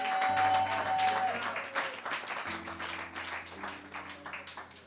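A church congregation applauds and cheers the Lord during a French-language worship service, a dense wash of clapping with sustained music tones underneath, steady and fairly loud throughout.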